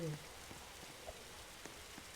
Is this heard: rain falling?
yes